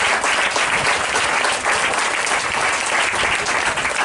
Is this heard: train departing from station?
no